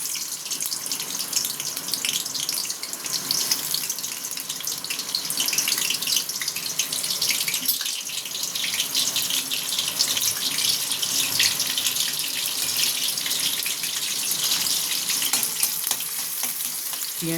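Chopped onion frying in hot oil in a home kitchen pan, a steady dense crackling sizzle that runs continuously and fairly loud, with no one speaking.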